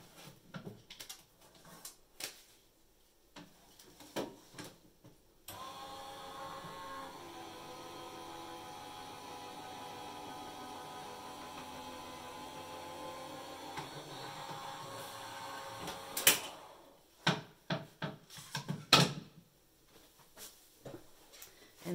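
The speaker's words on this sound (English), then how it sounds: "give me 2 seconds while I run that through my embossing machine" Paper and a folder cranked through a manual embossing machine: a steady mechanical whirring hum lasting several seconds, framed by close clicks, handling and shuffling noises.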